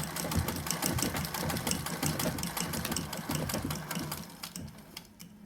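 A sewing machine stitches along a marked line on fabric for a crown, running in a fast, steady mechanical patter close by before slowing and stopping near the end.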